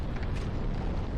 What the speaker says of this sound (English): avoid getting hit by his bombs.